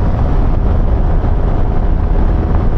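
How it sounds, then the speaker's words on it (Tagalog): Loud, steady wind roaring and buffeting the microphone during a motorcycle ride, a constant rushing noise with no voices. "Medyo mahangin din dito."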